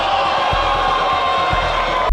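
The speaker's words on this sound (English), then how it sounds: "Dude, listen to that crowd. That crowd is furious." A game show studio audience makes a loud, sustained crowd roar of booing and shouting, with a couple of low thumps cutting through the constant noise.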